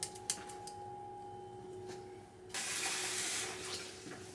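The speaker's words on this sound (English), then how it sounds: "Now that's when I'm going to pour the oil in." Oil poured into a bowl of homemade Mauritian crushed green chilli (piment crazé), a steady hissing, splashing pour that starts halfway through after a quiet stretch of low kitchen hum, with no talking.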